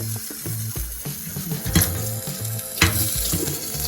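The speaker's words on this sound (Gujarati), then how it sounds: "આપણી મકાઈ છે તે એકદમ સરસ ફૂટી રહી છે" Masala popcorn kernels pop and crackle inside a pressure cooker on a gas flame turned down to medium-low. Several sharp pops break through a steady sizzling hiss of hot oil and spices, heard close up with no one speaking.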